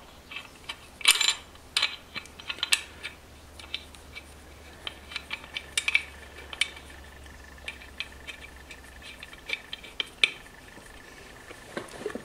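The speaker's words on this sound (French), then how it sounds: "Et vous faites prendre votre écrou." Small metal clicks and light ticking of a nut being threaded by hand onto a Nitro RC clutch, scattered, close and fairly quiet, with no talking.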